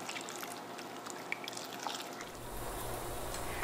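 Cup of water poured into a cooking pot holding beet, apple and rolled oats, a soft wet trickle and splash building toward the end, close and fairly quiet with no talking.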